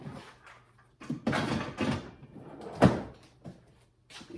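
A Ridgid Pro Gear 2.0 XL tool box drawer is pulled open, giving a few soft sliding rumbles and a firmer thunk, fairly close and heard without talk.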